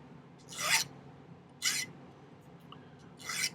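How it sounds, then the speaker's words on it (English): A file rasps against the metal base of an earring bezel in three short, separate strokes, close and fairly faint over a quiet background. "it's okay to file into the base a little bit so it kind of smooths in and has no seam"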